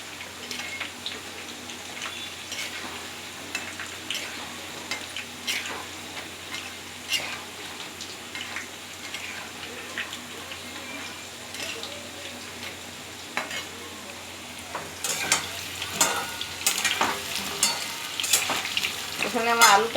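Dhoka lentil cakes fry in a pan with a steady close sizzle and scattered crackles, growing louder and more spattery toward the end.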